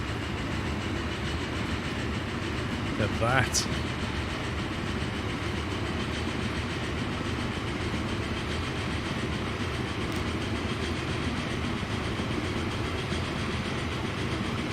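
Steam train running in the simulation game Transport Fever 2, a continuous rolling rumble and rhythmic clatter of wheels on track, heard at moderate distance and fairly quiet, with a brief high whistle-like chirp and a short spoken remark partway through.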